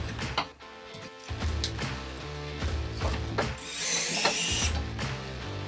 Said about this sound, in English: screw it in place with the mounting screws